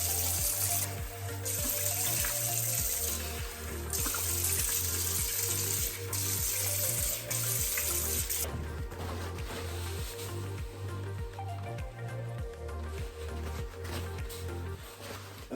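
Tap water runs steadily into a sink during a quick wash at the basin, a loud, continuous splashing rush with a rhythmic low churning underneath.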